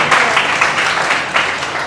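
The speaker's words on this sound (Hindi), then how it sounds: "ताली बजाओ" An audience at a school motivational talk breaks into applause, a dense, loud wash of clapping from many hands that swells and holds for a couple of seconds.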